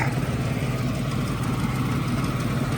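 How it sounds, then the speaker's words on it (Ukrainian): A ZIL truck engine with a cracked block runs at a steady idle nearby, a continuous low rumbling drone without pauses. "двигун реально працює хорошо"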